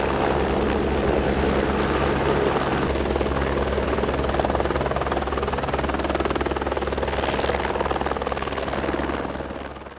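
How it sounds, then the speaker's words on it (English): Helicopter flying overhead on an airborne electromagnetic survey in Bhutan, a loud, continuous rotor thrum and engine roar that stays steady throughout and eases off slightly at the very end, with no talking. "A chopper will airlift the airborne electromagnet and make 10 runs along the proposed tunnel area."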